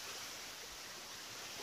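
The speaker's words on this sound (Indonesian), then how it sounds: "suara air terjunnya terlalu gemuruh" The tall, multi-tiered Curug Tarengtong waterfall in Naringgul, South Cianjur, gives a steady, even wash of rushing water, faint and continuous with no other sounds.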